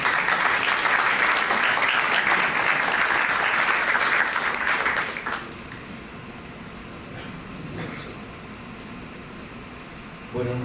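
Audience applause welcoming a speaker at a magazine launch, a dense, steady wash of clapping for about five seconds before dropping to a quiet room murmur.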